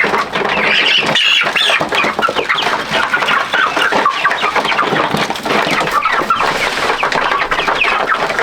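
Meat chickens cluck and squawk loudly and continuously at close range, a dense overlapping chorus from many birds with no talking.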